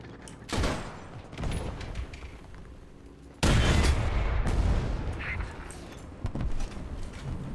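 Cannon and gunfire from shooting in War Thunder thunder out as several separate loud bursts, one especially heavy, each with a rumbling tail, close and prominent.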